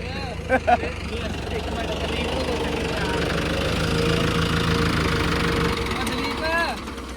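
A John Deere tractor engine idles with a steady low rumble throughout, with faint voices in the background.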